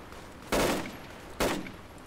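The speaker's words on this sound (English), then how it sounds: "It's just suppressive fire." Machine gun suppressive fire in the video game Project Reality on the Burning Sands map, heard as two short, loud bursts about a second apart against a quiet background.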